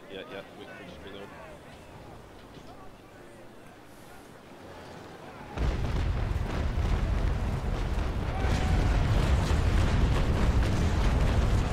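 Ship deck guns fire in the age-of-sail naval battle game Naval Action, a sudden loud roar of cannon blasts that breaks in partway through and rumbles on steadily, with players talking throughout.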